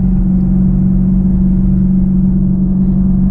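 Inside the cabin of a Camaro SS 1LE with an MBRP axle-back exhaust and the windows up, a loud, steady low exhaust drone and rumble fills the space continuously, with no talking.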